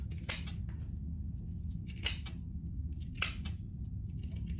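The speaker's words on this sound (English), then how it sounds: "And I'm just gonna have to use my regular scissors for some of this." Regular scissors snip fabric around a curve for an oven mitt, giving three separate crisp cuts spaced about a second apart over a steady low hum.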